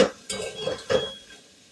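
Food being mixed in a pan, three quick scraping clinks of a spoon against the pan in close succession, near and fairly quiet, fading out afterward.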